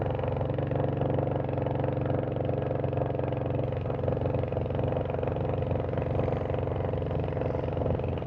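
A vehicle engine labors steadily in second gear up a steep hill road on the way to Keokradong in Bandarban, a loud, constant mid-pitched drone with no clear shifts or pauses.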